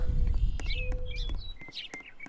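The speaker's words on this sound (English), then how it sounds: "I can hear the sparrow chirping." A sparrow chirps in a Roblox game, giving short bright tweets over a low rumbling background that fades partway through.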